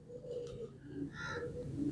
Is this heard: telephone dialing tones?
no